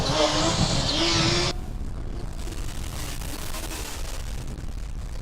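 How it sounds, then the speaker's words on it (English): Formula Student race car on an autocross track heading into a corner, a loud broadband engine roar for about a second and a half, then a fainter, steady mechanical rumble that continues to the end. "Meanwhile, Puni Tessali is on track with a great amount of noise heading into the first corner."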